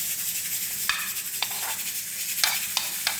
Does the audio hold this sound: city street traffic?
no